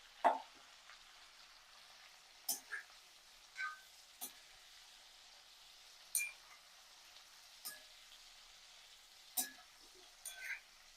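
Cauliflower stir-frying in a pan gives a soft, steady sizzle broken by about a dozen sharp clinks and scrapes of a spoon stirring at irregular intervals.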